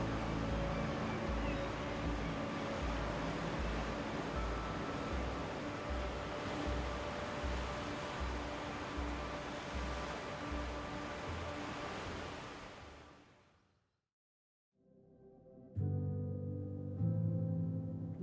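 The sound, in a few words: ocean waves on the Irish Atlantic coast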